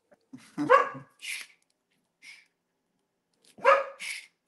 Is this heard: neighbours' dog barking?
yes